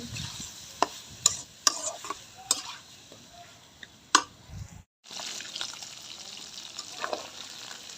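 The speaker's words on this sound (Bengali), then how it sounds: "চর্বিটা গলিয়ে নিয়ে আমি তাদের জাল দিতে দিতেই কিন্তু চরবটা গলে যাবে" Beef fat melting with salt in a pan for beef korma, sizzling softly while a spoon stirs and knocks against the pan in sharp, scattered taps, then a short gap before the frying resumes.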